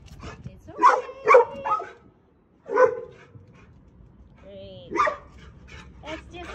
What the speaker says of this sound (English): You don't have to bark at the other doggies